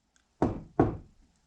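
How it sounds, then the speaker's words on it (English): Two firm knocks, evenly spaced and close, sound on a door or wall in an otherwise quiet room. "I'm going to knock again."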